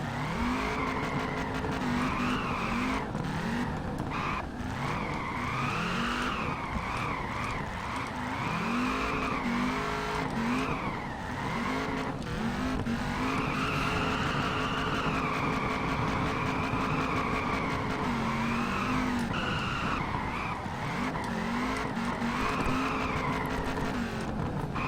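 A car drifts in Peak Angle Drift Online, its engine revving and shifting while the tires squeal almost nonstop through long slides, loud and close throughout.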